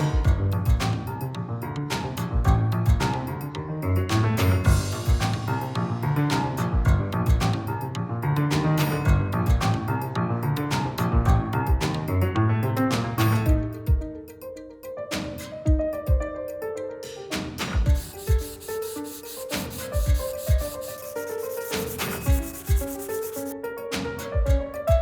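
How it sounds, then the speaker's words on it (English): Steady, continuous abrasive scrubbing of a rust eraser rubbed over a rusty knife blade, loud and close, with rhythmic back-and-forth strokes and a few sharper scrapes, no voices. "I got some like rust eraser online yesterday as well, and apparently this is supposed to do a pretty good job at getting rid of rust on knives"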